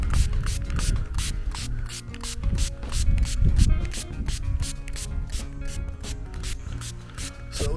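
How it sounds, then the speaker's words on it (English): Neem natural pesticide sprayed onto garden plants, a rapid series of short, regular spray bursts close to the microphone, repeating steadily over a low background rumble. "So we just make sure everything get a little spray"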